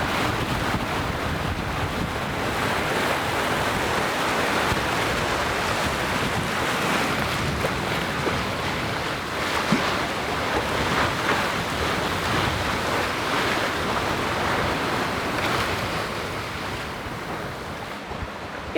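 Steady rush of wind and ocean waves aboard a sailing catamaran crossing the Indian Ocean, a continuous broadband roar with wind buffeting the microphone and no voices.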